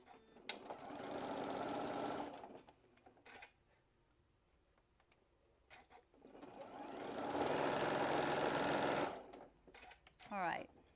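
A sewing machine stitches a quilt block seam in two long runs, a steady mechanical whir near the start and another louder stretch later, separated by pauses; a person talks at times.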